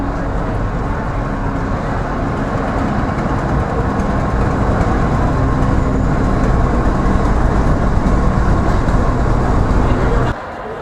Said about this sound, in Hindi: सामने से ट्रेन आ रही है।